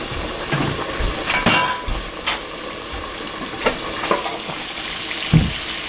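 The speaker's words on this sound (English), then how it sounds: "let's check these steaks just to see how fast they're cooking" Steaks fry in a pan on a wood stove with a continuous loud sizzle close at hand, broken by several clinks and scrapes of a utensil against the pan and a lid, with no talking.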